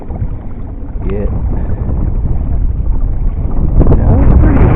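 Strong wind buffets the microphone at Silverwood Dam, a loud continuous low roar that swells and gusts harder toward the end, with no clear talk.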